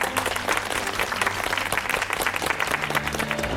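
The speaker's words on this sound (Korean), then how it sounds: "여러분 박수로 맞이해주십시오." A studio audience on a Korean TV talk show breaks into dense, steady applause for arriving guests, a continuous wash of many hands clapping at even loudness throughout, with no one talking.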